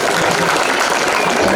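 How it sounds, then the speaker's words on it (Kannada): Audience applause at a college farewell program in Kanakagiri, a dense, steady burst of many hands clapping at once, close and loud for its brief duration. "ಈ ಮಾತು ಕೇಳಿ ನಿಮ್ಗೆ ಆಶ್ಚರ್ಯ ಆಗಿದ್ರೆ ಚಪ್ಪಾಳೆ ಬಿಡ್ರಿ"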